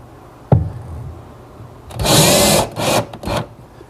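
A power drill drives screws into wood while mounting track hardware for a teak bar, with two or three short broadband whirring bursts following a sharp knock, close and loud with no talking.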